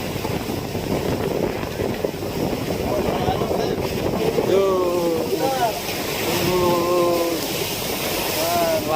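A boat crosses a rough, choppy sea off Polillo Island, Quezon, under a constant rush of wind and water buffeting the microphone. Voices talk over it during the second half.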